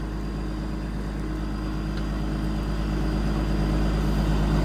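Bulldozer engine running at a steady, low, droning idle close by, unbroken rumble with a slight rise in level toward the end, no voices.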